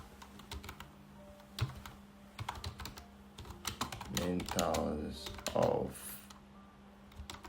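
Rapid clicking keystrokes on a computer keyboard, close and continuous in irregular bursts, while a person talks over the typing throughout.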